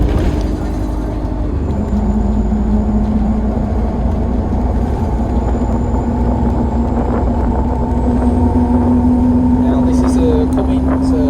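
An Optare Metro City single-deck bus from about 2016, running on Central Buses route 202, drones steadily with a low engine hum and road rumble from start to finish, loud and close, as heard from aboard.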